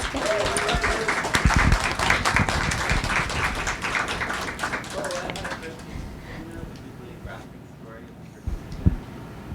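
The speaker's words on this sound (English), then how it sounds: "Another round of applause." Audience applause for poet Kay Gabriel at a reading event about Bernadette Mayer, dense clapping that tapers off toward the end, with some voices mixed in.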